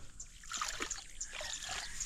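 Water is drained off a sweet potato shoot patch, making a steady close trickle with light splashes and sloshing throughout.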